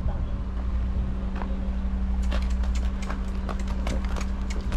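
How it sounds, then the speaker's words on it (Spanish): A Paso Fino horse's hooves clip-clop in quick, even steps on a street during an outdoor ride, with a steady engine-like hum underneath and faint voices around. "Lindo que está ese caballo. Es paso fino, ¿eh?"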